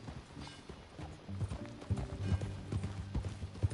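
Horse hooves clip-clop in a steady rhythm in Red Dead Redemption, growing louder and nearer as the horse moves along, with faint game sounds underneath.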